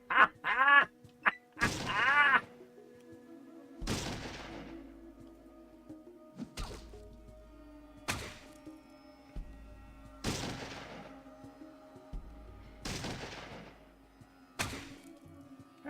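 Gunshots ring out in the Fallout video game: a quick cluster at the start, then single heavy booming shots every couple of seconds, each with a long decaying tail, loud and close against a quiet backdrop.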